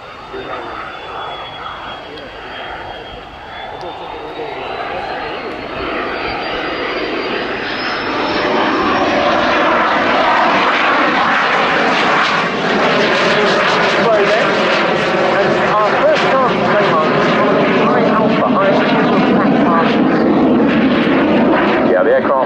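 A Saab JAS-39C Gripen fighter jet flying a display at an air show, a loud roaring engine that builds over the first seconds and then holds a steady heavy rumble with a whistling tone, under a voice commentating throughout.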